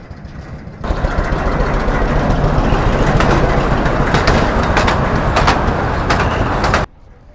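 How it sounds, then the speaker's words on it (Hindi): A train pulls into a station on Elephanta Island: a loud, steady rumble with metallic squeals rises abruptly and fills about six seconds before cutting off, with no talking. "So train is here right now."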